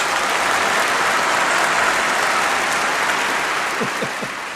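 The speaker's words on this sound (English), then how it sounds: "A little bit of applause coming from the other track there." Recorded applause from an audio track plays at a DIY workbench: a dense, continuous crowd clapping, fairly loud and even, fading slightly at the end.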